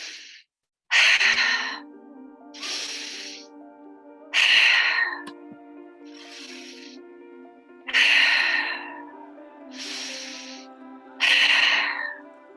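Active breathing exercise, in through the nose and out through the mouth: four loud, forceful exhales arrive about every three and a half seconds, each followed by a quieter, longer inhale, over a faint sustained musical background.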